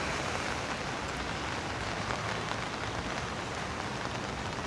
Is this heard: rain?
yes